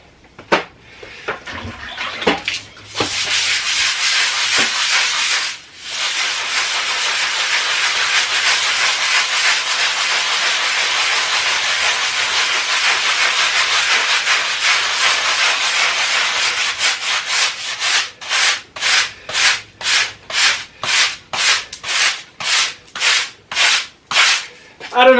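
A scrub brush rubs across a basement floor with hot water, first in a long continuous scouring hiss, then in quick rhythmic back-and-forth strokes near the end.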